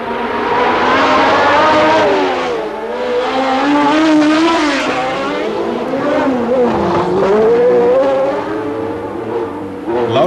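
Formula 1 cars racing in 1977, including the Ferraris of Reutemann and Niki Lauda and a McLaren, give a loud, continuous high engine whine whose pitch rises and falls as they shift gears and pass through traffic.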